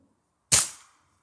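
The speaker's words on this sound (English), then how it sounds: "Here's the last shot." A pellet gun fires a single hollow point pellet: one sharp, loud crack with a brief fading tail, standing alone in an otherwise quiet space.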